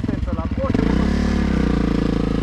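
Motorcycle engine revving outdoors on rural land, a loud close pulsing engine roar that rises and holds steady, with people talking over it.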